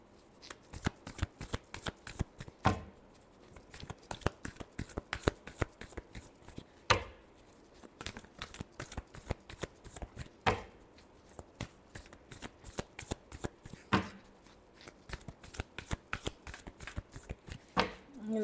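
Tarot cards being shuffled by hand, a steady run of crisp riffling and slapping card sounds repeating throughout, close and fairly quiet, with no talking over it.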